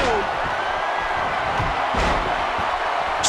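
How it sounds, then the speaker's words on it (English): Wrestling arena crowd in the WWE 2K17 video game, a dense continuous roar of cheering under a commentator's voice, with a couple of sharp thuds from the ring. "You can hear this crowd."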